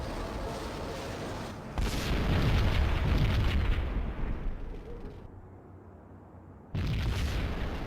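Bomb blast in the Max Payne video game: a heavy, loud rumbling explosion that swells and slowly decays, then a second burst of roaring noise, with no talk over it.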